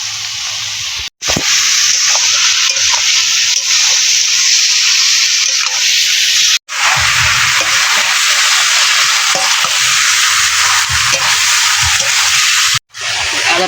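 Boiled potato and young jackfruit frying in a pan with onion: steady, loud sizzling hiss broken by two brief silent gaps, with stirring scrapes and faint talk under the frying.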